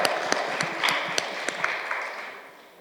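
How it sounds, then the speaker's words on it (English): A round of applause at a conference: a modest crowd claps steadily with a few sharp, louder individual claps standing out, tapering off over about three seconds, no talk. "Round of applause."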